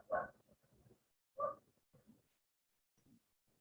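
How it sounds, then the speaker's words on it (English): A dog barks somewhere in a home, giving a few short, faint yips and barks spaced about a second apart, fairly distant and quiet. "My dog's barking."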